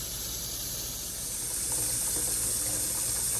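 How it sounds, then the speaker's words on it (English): Cool tap water runs steadily into a kitchen sink as collard greens are washed, giving a continuous close hiss with faint splashing and no speech. "I've got some cool water running"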